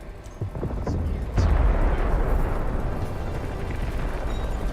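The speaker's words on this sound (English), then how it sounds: "Artillery barrage incoming." Artillery barrage in a war video game, with heavy booming explosions that rumble in succession, one loud blast landing near and the rest rolling on as a dense, sustained roar.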